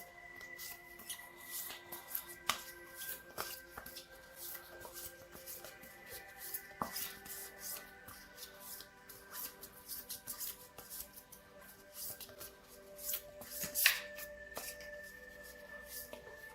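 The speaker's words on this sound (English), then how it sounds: "I've shuffled these cards, as you might have heard." A deck of tarot cards shuffled by hand, with soft repeated riffling and rubbing that continues steadily under a faint background hum.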